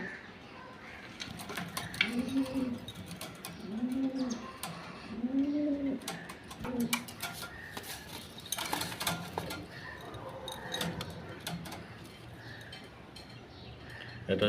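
Giribaz velvet pigeons kept for sale give a series of deep, rolling coos in a rhythmic run of about four calls, followed by softer chirps and clatter nearby.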